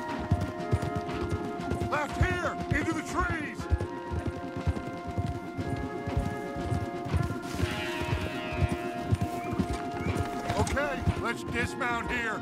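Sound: horse galloping hooves, video game

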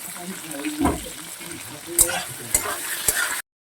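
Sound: onions frying in a pan

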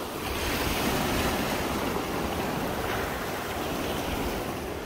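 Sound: ocean waves washing around rocks in Port Lincoln National Park

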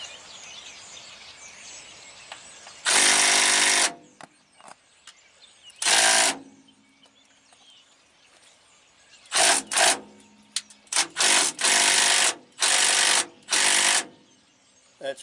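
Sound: power wrench turning brake S-cam on semi trailer

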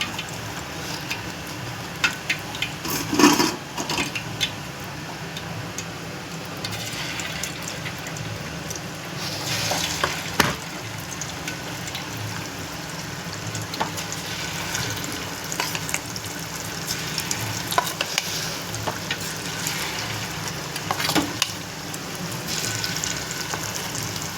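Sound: chicken 65 frying in hot oil

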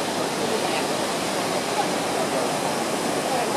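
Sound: Taulan waterfall

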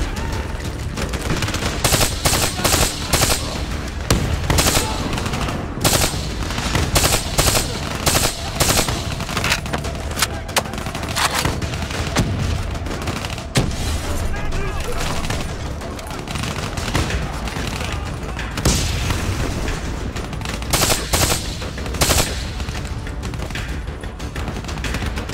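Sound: machine gun fire in Call of Duty Black Ops 3 video game

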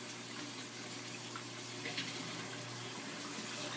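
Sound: aquarium overflow water siphoning

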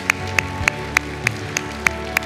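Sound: congregation clapping hands in praise

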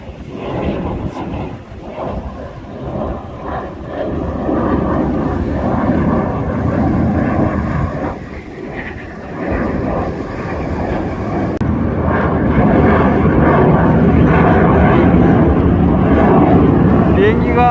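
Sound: airplane flying overhead

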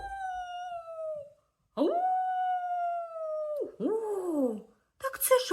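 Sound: wolf howling

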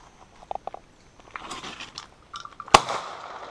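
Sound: Browning Silver Hunter 12 gauge shotgun firing

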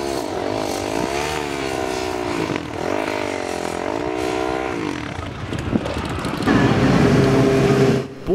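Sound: motorcycles racing one on one on a track

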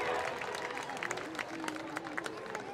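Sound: applause for Kevin Burt and Big Medicine

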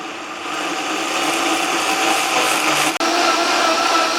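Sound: blender grinding soaked glutinous rice with bean-cooking water

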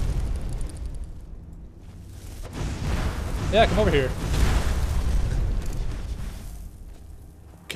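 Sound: huge explosion in Skyrim video game

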